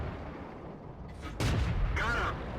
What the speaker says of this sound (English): we'll fire a few shots at his last known location.